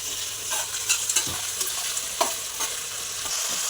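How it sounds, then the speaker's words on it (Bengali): Green beans frying in oil in a wok, a bright crackling sizzle close by with a few sharp spatter pops and stirring scrapes, short and without talk. "এখন বিন কড়াইগুলো তেলের মধ্যে দিয়ে দেবো।"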